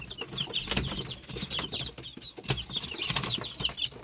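Many baby chicks peep in high, rapid bursts, a busy flock close by with some rustling and faint clucking underneath.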